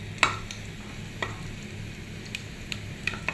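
Mustard seeds fry in hot oil for aloo chorchori, throwing out a few sharp pops and crackles over a low, steady sizzle.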